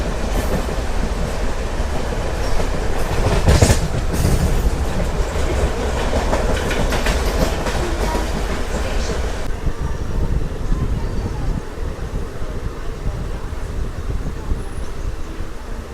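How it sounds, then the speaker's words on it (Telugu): A MEMU express train on the Tirupati–Puducherry line, pulling out at Nagari, rumbles loudly and steadily with continuous wheel clatter close by, easing slightly toward the end. "బయలుదేరిపోయింది మన ట్రైన్ కూడా"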